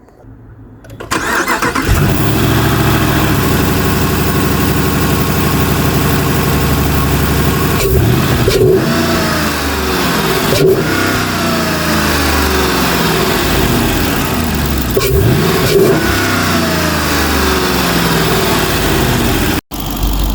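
A Dodge Durango's Hemi engine cranks and catches, then runs loudly and steadily with several sharp revs rising and falling throughout; no talking.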